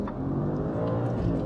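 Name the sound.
Audi S4 manual V8 accelerating hard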